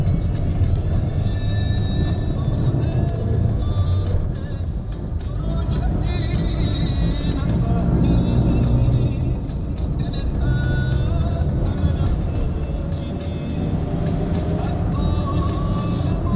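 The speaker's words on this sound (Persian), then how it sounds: "صدایی که ماشین میاد" A car climbing the autumn mountain road from Siahkal to Deylaman in Gilan, northern Iran, a steady close engine and road drone heard from inside, with faint talk over it.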